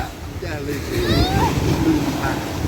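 Sea waves break and wash onto the beach at Bang Saen, a steady broadband surf roar with wind noise, while people talk and laugh nearby over the water.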